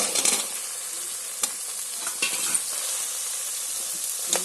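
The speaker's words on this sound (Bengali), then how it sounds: "ভাজা ভাজা হয়ে গেছে, এবার পেঁয়াজটা লাল হয়ে গেছে। এবার আমি লাউটা দিয়ে দিচ্ছি।" Bottle gourd pieces hit reddened fried onions in a pan, giving a steady close sizzle broken by occasional stirring scrapes and clicks.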